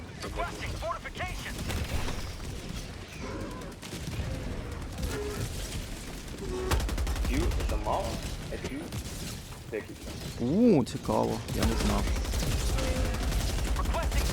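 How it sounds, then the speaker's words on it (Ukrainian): Helldivers 2 video game machine gun firing in rapid bursts amid other battle noise, with someone talking over the shooting throughout. "Боже, цей кулемет це прокляття. Як з нього взагалі по комусь стріляти?"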